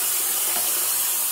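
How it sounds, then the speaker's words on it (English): Water running steadily from a tap while dyed yarn is rinsed in a sink, a continuous hiss of flowing water with no talking. "keep rinsing until this water runs clear"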